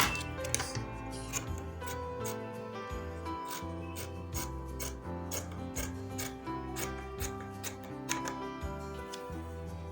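Scissors trimming the sewn seam of a female trouser pocket, a steady run of close snipping and rubbing fabric strokes over ten seconds against a dense, busy background.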